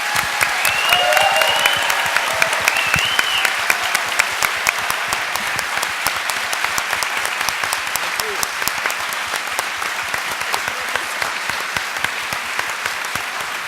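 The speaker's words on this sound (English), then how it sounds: "Let's give them a bigger round of applause." Steady applause from an audience at the close of a candidates' question-and-answer session, dense clapping lasting the whole stretch with a faint voice briefly audible early on.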